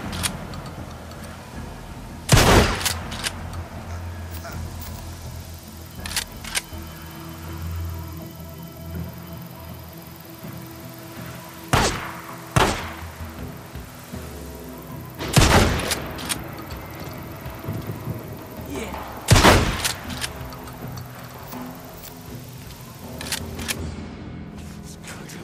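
Gunfire in the video game Days Gone, with sharp loud shots in scattered single bursts over about twenty-five seconds, set against a low rumbling background with clicks and thuds between the shots.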